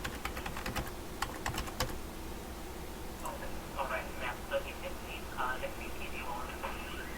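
Fast clicking on a computer keyboard in a tech support call setting, a quick run of sharp keystrokes followed by scattered lighter taps, close by over a background hum with faint distant voices.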